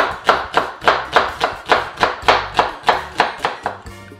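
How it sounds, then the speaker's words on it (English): A knife chops onions on a cutting board in a home kitchen, about a dozen sharp, evenly spaced knocks at a brisk steady rhythm, close and fairly loud, with no talking. "I like to cut my onions"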